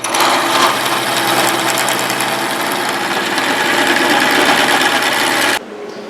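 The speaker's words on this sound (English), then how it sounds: "Make sure the belts on the drill press are tight." A drill press with belt drive runs steadily and loudly throughout, a dense continuous mechanical whir that cuts off abruptly near the end, with no talking over it.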